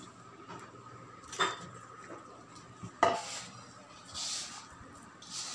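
Soy chunk vada batter is mixed by hand in a bowl, giving soft squelches, a couple of sharp clinks against the bowl and intermittent scraping in a quiet room.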